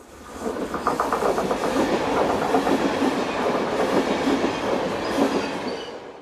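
A Slovenian class 310 electric train rolls past on the Sava Valley railway, a loud rush swelling in with rhythmic clickety-clack of wheels over rail joints, then fading away at the end.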